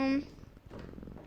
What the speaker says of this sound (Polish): to jest mój kotek w ogóle